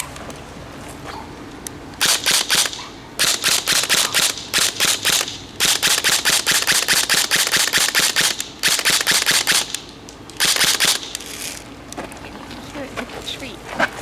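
Rapid bursts of shots from a Spartan/VFC SRX 303 airsoft M4 pistol, firing in repeated quick strings of snappy pops with short pauses between them, loud and close, with a voice talking faintly underneath.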